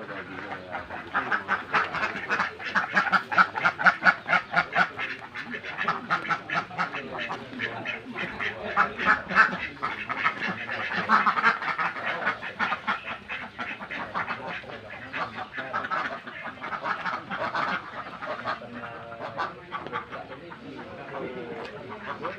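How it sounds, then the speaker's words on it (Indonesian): Egg-laying ducks kept in crates of sixty quack steadily as a dense, busy flock, calls overlapping continuously at close range and fairly loud throughout. "Ini itik kering atau itik petelur."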